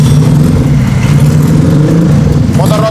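Road race motorcycle with a weak battery being jump-started, its engine running in a loud, steady mid-pitched drone close by, with a brief rising rev near the end.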